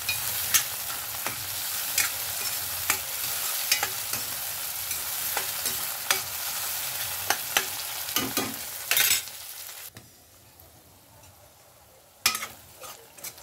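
Tomatoes and onions frying in oil in a pan as they are stirred, giving a steady close sizzle broken by sharp spoon scrapes and clacks against the pan. The hiss drops away near the end, with a few last knocks.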